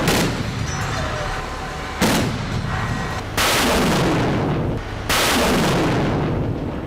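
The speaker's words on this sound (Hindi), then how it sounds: "बारूद उगलता हवा में टारगेट को खत्म करता यह रूस का Panjshir air defence missile system है।" Russian Pantsir air defense missile system firing at aerial targets: four loud, abrupt booming blasts at roughly one-to-two-second intervals, each followed by a sustained roaring rumble, close and dominating with no talk.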